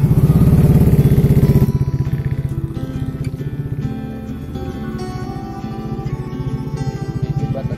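A Yamaha Aerox scooter engine starts and runs close by, loud with a rapid pulsing putter. It drops to a lighter, steady idle chatter after the first couple of seconds.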